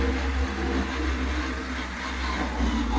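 Kubota 21 HP mini tractor driven in four-wheel drive, its engine droning steadily and loudly with a deep low rumble throughout, close to the listener.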